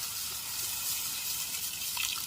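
Clean pond water poured from a jug, a steady broadband gush of liquid running close by and fairly quiet, continuous for the whole stretch with no voices.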